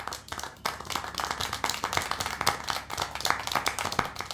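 Rapid, uneven clapping and applause from a scene in the video game Syberia: The World Before, close and fairly loud, a dense run of sharp hand claps continuing throughout with no voices.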